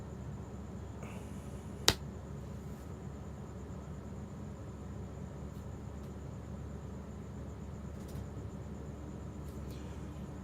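A single sharp hand clap, close and brief, standing alone against a steady low background hiss in an otherwise quiet room.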